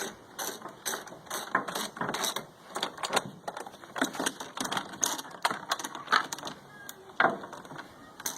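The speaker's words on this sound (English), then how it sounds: "There are a couple more bolts that we'll go ahead and remove on this side." A hand ratchet backs bolts out of the housing of a WEN 2500W inverter generator, with a rapid series of clicking pawl strokes in bursts and short pauses, close-up and without talk.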